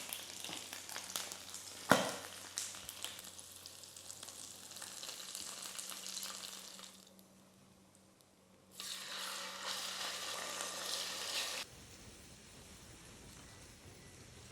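Pork belly (liempo) fries in a pan of oil with a loud, steady, close sizzle that dips briefly partway through, and a single utensil knock near the start.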